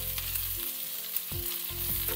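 Sliced onion and coconut sizzle and fry steadily in a pan for shevbhaji, a continuous close crackle with a few brief stirring scrapes and no talking.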